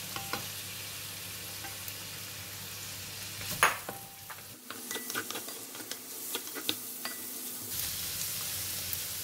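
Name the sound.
onions frying in a pot for pork rib curry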